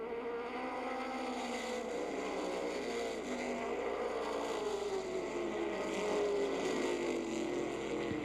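Race cars on a short oval track speed up together as the field picks up the pace, a dense layered engine drone that rises steadily and sounds somewhat distant.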